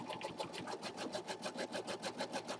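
An embroidery machine running fast, steady, rhythmic mechanical chatter while stitching an applique box outline that bonds fabric to stabilizer, close and moderately quiet, with no voices.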